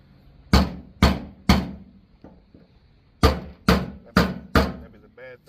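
Seven sharp metallic strikes of a hammer on a flathead screwdriver while removing a Chevy Caprice fuel sending unit, three in quick succession, a pause with faint knocks, then four more evenly spaced blows, each decaying quickly.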